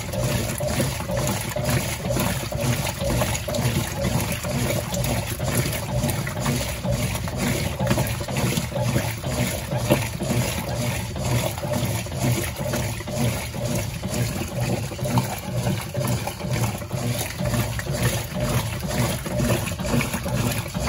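A Brastemp BWL09A top-loading washing machine runs on its turbo cycle, giving a steady churning, sloshing water noise with a low motor hum that continues evenly throughout, close and fairly loud, with no speech.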